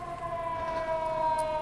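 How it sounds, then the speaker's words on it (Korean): Fire truck sirens sound outside a building, a steady wailing tone held at moderate distance over faint street rumble, with no speech. "경찰차들이, 아니 소방차들이 막 모이기 시작하는데"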